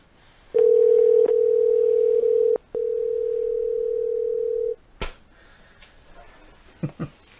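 A telephone dial tone sounds while a call is being placed: a steady pure tone holding for about two seconds, a short break, then another long steady tone, followed by a few faint clicks.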